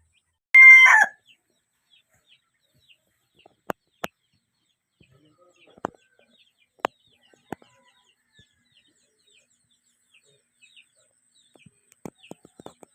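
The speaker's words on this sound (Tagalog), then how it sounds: "Pakain sa manok. Halo-halo yan." Chickens being fed a mixed feed give one loud, brief squawking call up close at the start, then only scattered soft pecking clicks and faint taps in near silence.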